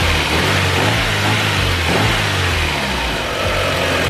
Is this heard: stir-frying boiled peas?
no